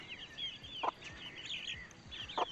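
Young chicks chirp in high, overlapping peeps while a hen clucks twice in short bursts, faint and close in a quiet backyard coop.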